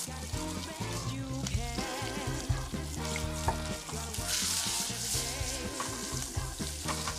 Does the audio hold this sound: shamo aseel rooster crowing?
no